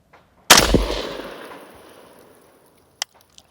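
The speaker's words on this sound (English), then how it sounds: "First shot's away." A single loud, close rifle shot during a scope box test with a riflescope mounted, followed by a long decaying echo and then a couple of small, faint clicks.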